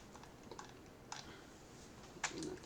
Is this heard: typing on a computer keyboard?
yes